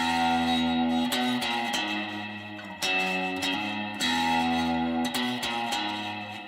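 An electric guitar captured through two microphones set out of phase plays loud, sustained distorted chords with sharp strummed attacks that ring and slowly decay, alone without talking.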